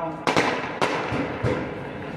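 Firecrackers burst at an outdoor public gathering in Muslim Badshah Peth, three sharp loud bangs at irregular intervals over a constant crowd murmur.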